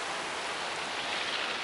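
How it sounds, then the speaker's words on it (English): Heavy rain pours down steadily on an empty beach under a grey sky, a dense, even hiss of falling water that fills the scene with no pauses or voices. "There's the rain pouring down."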